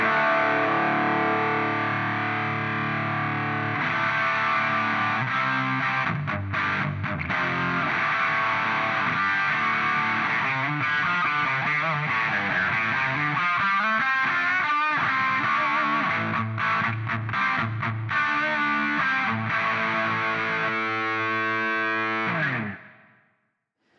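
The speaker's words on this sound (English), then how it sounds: "when I move the contour knob counterclockwise, it starts to get very dark sounding" Distorted electric guitar through an Epiphone So Cal 50 amp with its contour knob turned toward a darker tone, playing steady loud riffs alone for about twenty-two seconds before cutting off.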